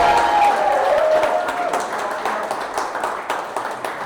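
Audience applause at a stand-up comedy show fades gradually from a loud opening into scattered claps, with a brief voice audible early on.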